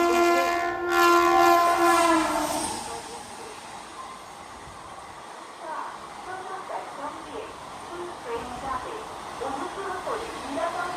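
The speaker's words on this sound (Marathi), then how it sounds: "4 number platform say through train" A 130 km/h express train rushes through a station platform, with a loud horn blast at the start, then a sustained rumbling roar and hiss of the passing carriages; a public-address announcement is heard over it.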